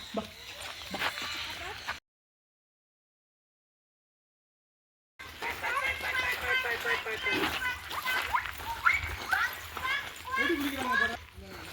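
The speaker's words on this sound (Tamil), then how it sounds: "டக்கு குளிக்குது." Water splashes and sloshes repeatedly as a duck bathes, with children's voices chattering over it; a brief stretch of silence interrupts partway through.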